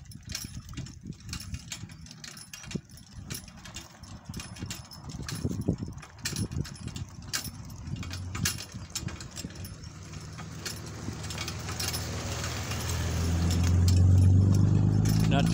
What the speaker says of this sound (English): It's coming this way, pickup truck. Big old dually Dodge.